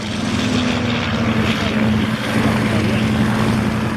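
A de Havilland Chipmunk propeller aircraft flies past at a vintage military airshow, its engine drone loud and steady throughout with a sustained tonal hum and no talk over it.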